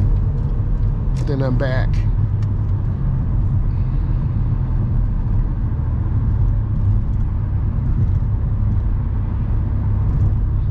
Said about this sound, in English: then I want to go into the nearest lane, and then I accelerate out